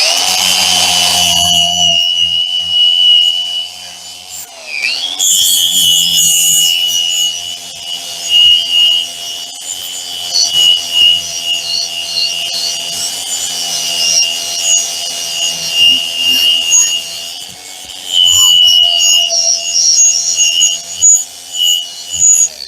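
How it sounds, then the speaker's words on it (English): A flap wheel sanding disc on an angle grinder works a part from a John Deere 445 garden tractor, a loud, steady high-pitched whine with grinding rasps that rise and dip as the pressure changes, with no talking. "Just using a flap wheel, just sandpaper layered up on angle."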